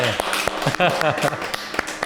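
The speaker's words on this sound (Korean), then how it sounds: "우리 두 분에게 박수 한번 여러분" A small audience at a life-advice talk gives a few scattered, distinct claps, and a voice keeps speaking over the top.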